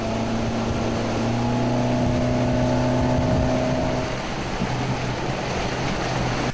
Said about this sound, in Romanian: La bordul unui catamaran cu un motor de mare putere, cei doi au făcut câte 5 ture